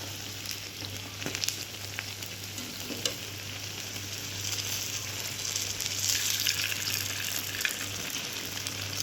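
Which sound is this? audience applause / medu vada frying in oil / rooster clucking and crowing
medu vada frying in oil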